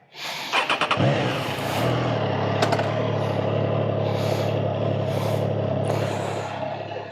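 A Triumph Trident 660 motorcycle, already warmed up, starts to ride off with a few sharp engine pulses followed by a steady, close engine drone and road noise that holds throughout.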